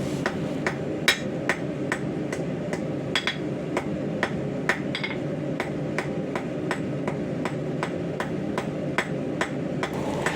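Hammer blows draw a taper on red-hot metal at a blacksmith's anvil while forging Christmas wreath ornaments, a steady run of sharp, ringing strikes roughly every half second, close and loud over a low background hum.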